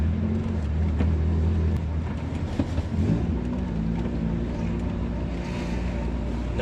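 Honda Prelude project car with its front end unbolted, pulling hard in third gear with a loud, steady engine drone and road rumble throughout.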